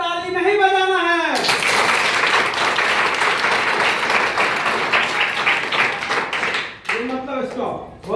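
A workshop group bursts into loud, dense hand clapping for several seconds, with speech just before and after the applause.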